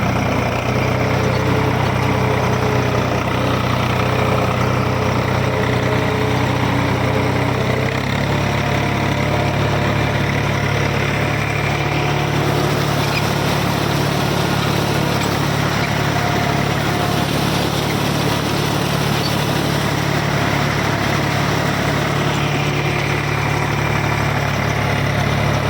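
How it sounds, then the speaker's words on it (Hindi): An Eicher 485 tractor running in second low gear at 1400 to 1500 rpm with the lift raised, pulling an 8-foot rotavator through a wet field; a loud, steady, close diesel drone with constant vibration and no talk. "अब जो ना मैं आपको ट्रैक्टर चला के दिखाता हूँ भाई"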